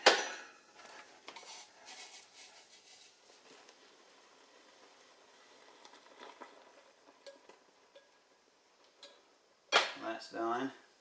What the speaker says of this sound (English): Go ahead and give it a little stir.